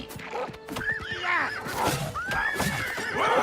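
A horse in the video game Oblivion Remastered whinnies repeatedly in rising, wavering calls, loud and close, mixed with hoof clops and game sounds.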